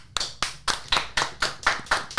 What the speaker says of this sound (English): I think we should give them a clap for Ipswich.